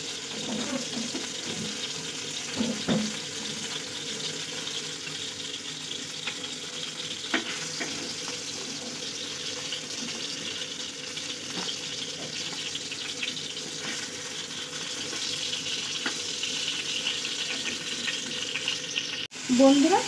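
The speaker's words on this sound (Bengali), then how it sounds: "এবারে বন্ধুরা আমরা সব মাছগুলোকে ভেজে নিব।" Poa fish pieces frying in a pan of oil, a continuous close sizzle with light crackles, scrapes and stirring knocks, and a louder clatter at the very end.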